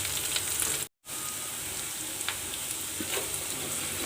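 Ginger paste and turmeric frying in a pan for a prawn and bottle gourd curry, giving a steady close sizzle throughout, broken by a brief silent gap near the start.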